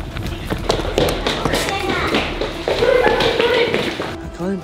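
Many hurried footsteps of people running off echo together in a steady, dense patter of thumps and taps, loud and close, with faint voices mixed in.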